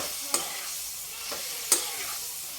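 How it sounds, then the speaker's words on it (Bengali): Shrimp are stirred in a hot frying pan, giving a steady close sizzle throughout. Two sharp scraping clinks of the utensil against the pan stand out over the hiss. "এখন আমি এই চিংড়ি মাছটা এটাতে দিয়ে দিলাম, দিয়ে নেড়ে চেড়ে"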